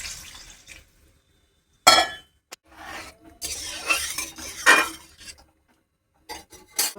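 Water is poured into a pot of sautéed vegetables and tomato for a vegetable curry and stirred in, with short bursts of splashing and spoon-scraping separated by quiet gaps.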